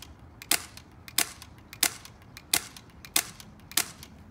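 Sharp, snappy shots from a high-powered BB gun, six evenly spaced cracks about every 0.65 seconds, each a brief bright click with a short mechanical rattle, close and fairly quiet, no talking.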